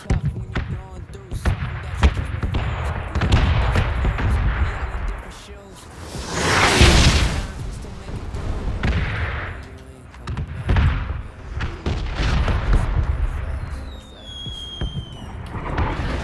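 Loud, booming explosions and whooshing blasts from a bombing zone in PlayerUnknown's Battlegrounds roll on continuously, with voices talking underneath the chaos.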